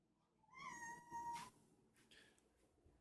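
A house cat gives one clear, drawn-out meow close to the microphone in a quiet kitchen, followed by a couple of faint softer sounds.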